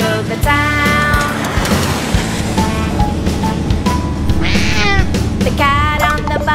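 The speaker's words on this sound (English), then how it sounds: "The cat on the bus says meow meow meow all through the town." Cartoon-style cat meows come in short repeated bursts over a bouncy children's nursery song about animals on a bus, with steady music throughout.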